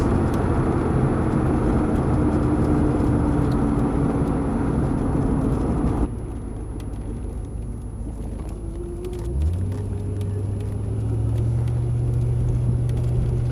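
A 1988 C4 Corvette engine runs loud and close with a steady low rumble, drops back briefly, then rises again in pitch as it accelerates.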